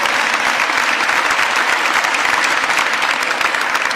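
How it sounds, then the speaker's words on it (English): Audience applause at a Philadelphia event announcing celebrations for America's 250th anniversary, steady sustained clapping from a large crowd, loud and even throughout with no talk over it. "Let's give a round of applause to Visit Philadelphia and Ted."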